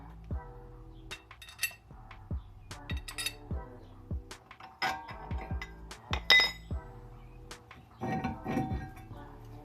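A brake rotor is worked off a car hub during a big brake upgrade, giving a series of close metallic clinks and knocks, sharp and irregular, followed by a scraping clatter near the end.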